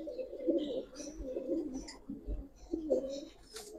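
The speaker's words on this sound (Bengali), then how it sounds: "ররমি কবুতর ভাই, আগে মাদিটা দেখাই" Romi pigeons, a hen among them, coo softly and repeatedly, low throaty calls at close range with faint background noise.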